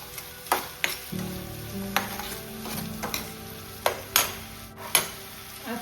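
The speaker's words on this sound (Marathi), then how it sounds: "मीठ घातल्याने कांदो पटकन भाजतो, कांदो भाजताना त्याच्यात थोडंसं मीठ घातलंय" Onion frying with salt in a pan for a Malvani-style monsoon wild greens dish, a close steady sizzle punctuated by repeated sharp scrapes of stirring.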